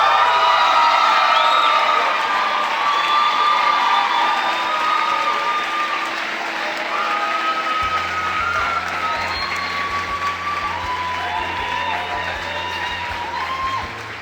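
Audience applause and cheering for performer Brittany Butler, a sustained crowd roar of clapping with whoops and shouts that stays loud and steady throughout, with no talking over it.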